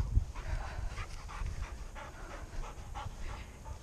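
A pushy dog pants steadily in quick rhythmic breaths, fairly close, with no talking over it.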